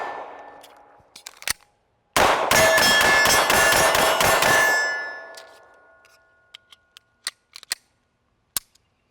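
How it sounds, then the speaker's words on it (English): A Beretta M9A3 pistol fires a rapid string of about a dozen sharp, close shots, followed by scattered faint clicks and handling noises in quiet surroundings. "flat out love shooting the Beretta M9A3, an absolute blast."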